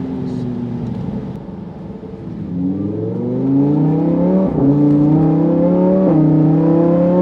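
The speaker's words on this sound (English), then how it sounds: "You can hear the supercharger a little bit." A supercharged Lamborghini Huracan STO engine accelerates hard, pitch climbing through several gear changes, with a faint supercharger whine riding over the close, loud roar.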